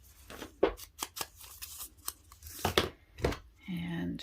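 Scissors snipping off a strip of paper while assembling a handmade file folder journal, several sharp close cuts in an uneven rhythm followed by a brief rustle, with no talking.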